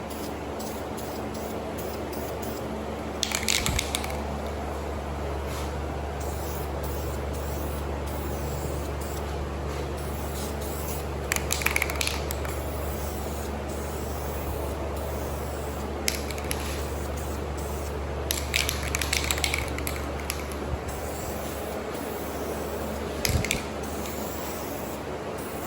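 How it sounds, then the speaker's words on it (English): Bursts of spray paint hiss in short passes over a steady background hum while matte paint coats trim for a boxy Chevy truck, each spray lasting about a second and repeating irregularly. "I'm about to spray them right now"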